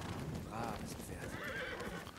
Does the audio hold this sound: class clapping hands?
no